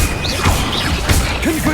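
Stupefy spell impacts in the Hogwarts Legacy video game land as a couple of close, sharp crashing whacks amid swishing spell effects and ongoing combat noise.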